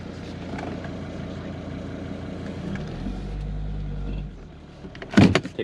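A Volvo 940 towed behind another car: a steady low engine drone and road rumble that swells deeper for a moment, then fades, followed by a few sharp clunks at the end.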